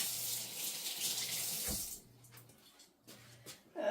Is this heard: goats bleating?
no